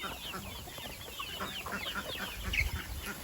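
Local chickens on a small poultry farm cluck and murmur in a continuous flock chatter, with scattered louder calls standing out over a steady background hum.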